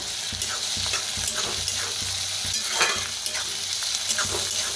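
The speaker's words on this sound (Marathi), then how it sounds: "लसूण आणि हिरवी मिरची चेचून घेतलेली भाजून घेऊया" Crushed garlic and green chilli frying in a pan with onion, a close, continuous sizzle broken by scattered crackles and light scraping as the mix is stirred; nobody speaks.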